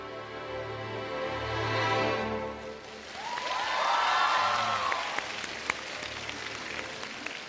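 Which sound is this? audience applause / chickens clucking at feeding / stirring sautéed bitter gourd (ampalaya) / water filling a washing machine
audience applause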